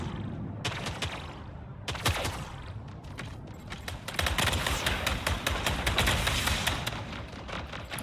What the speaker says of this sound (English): Fusion cannon makes a neat sound.